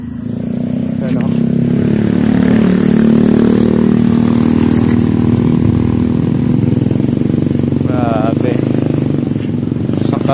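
A Raider Fi 150 motorcycle revs and drones loudly and continuously during a street ride alongside big bikes, its harmonic engine note rising and falling under wind noise throughout.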